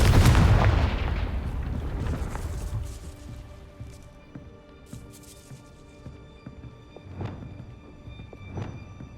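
Confringo fire spell blast in Hogwarts Legacy, a heavy booming explosion that rolls and fades over several seconds, followed by faint scattered crackles and small thuds.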